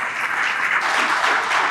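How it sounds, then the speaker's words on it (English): An audience claps at a trading event, a dense burst of applause that stays steady and fills the room for a couple of seconds. "can we give a round of applause to all these people who are standing?"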